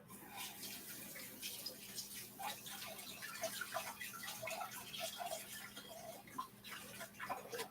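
Water splashes steadily from a running tap into a kitchen sink as hands are washed during sourdough bread making, a faint, continuous rush with small drips and splatters.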